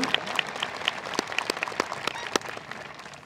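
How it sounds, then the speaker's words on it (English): An audience at a high school commencement ceremony applauds steadily, with individual sharp claps standing out from the crowd's even patter. "Let's give them a round of applause"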